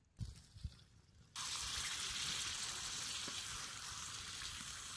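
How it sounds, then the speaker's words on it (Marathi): A steady, loud sizzle of masala frying in hot oil outdoors in a sugarcane field starts abruptly after a few soft clinks and continues evenly to the end. "बघा ही सौदा आपला चांगला तेलात भाजलाय"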